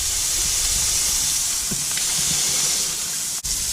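Raw beef patty with onion smashed flat by a metal spatula on a hot griddle, giving a loud continuous sizzling hiss with a few faint scrapes and a sharp click near the end.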